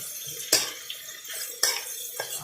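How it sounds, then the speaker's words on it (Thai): Stir-frying pork with egg in a pan. Sharp metal spatula scrapes and clanks come at intervals over a soft background of cooking noise, with no talking. "อันนี้เราผัดสีนะคะ ผัดใส่ไข่ลงไปนะคะ"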